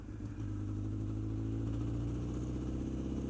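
Honda CBR1000RR sport motorcycle engine revving up from a low rumble into a sustained, rising high-rpm roar, close and loud with a steady buzzy drone.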